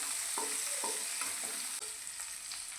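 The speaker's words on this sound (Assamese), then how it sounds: "পিঁয়াজখিনি এতিয়া কম জুইতে অলপমান ৰঙচুৱা হোৱালৈকে ভাজি ল'ম।" A large onion fries gently in oil with panch phoron over low heat for an Assamese fish curry, a soft continuous sizzle broken by a series of rhythmic scraping stirs of a spatula against the pan.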